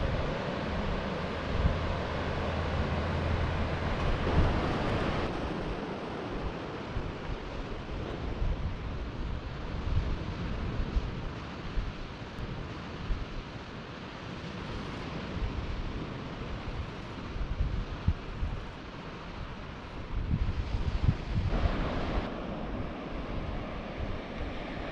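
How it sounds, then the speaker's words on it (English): Waves wash continuously onto a pretty beach at Saint Pol Roux, a broad steady roar of surf mixed with wind buffeting the microphone throughout, with no voices. "You know, like the beach of Robinson Crusoe where you land shipwreck"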